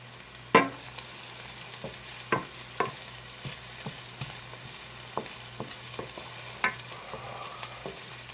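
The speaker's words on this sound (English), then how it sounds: "we will add our mushrooms and our butter and cook those down until they're soft." Mushrooms cooking down in butter in a pan for risotto, with a low steady sizzle under a series of sharp scraping strokes from a stirring utensil, close by and with no talk.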